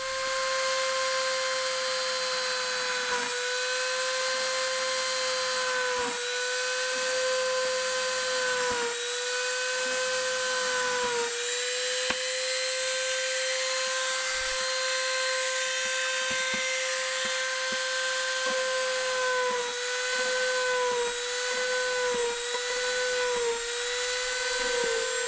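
A power drill whines steadily at high pitch while boring a pilot hole, its motor pitch dipping briefly every few seconds as the bit bites and then recovering, loud and close throughout.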